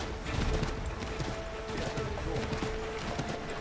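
Hooves clip-clop in a quick, steady rhythm, fairly faint, from a horse in the video game Assassin's Creed III, with a game-like backdrop of ambient noise and an occasional tonal note.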